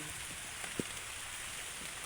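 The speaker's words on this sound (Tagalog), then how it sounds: "Ngayon, sinamantala ko ng umuulan." Steady rain falls under dark, heavily clouded skies, a continuous even hiss with one brief louder drop or tap near the middle, no one talking.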